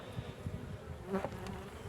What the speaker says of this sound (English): The first observation is quite a lot of bees, which is good. Quite obviously grumpy.